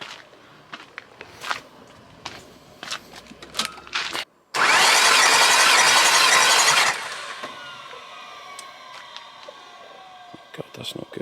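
A VW Golf R32 engine turns over on the starter for a compression test with the fuel pump disconnected. It gives one steady cranking whir of about two and a half seconds, surrounded by scattered clicks and handling noises.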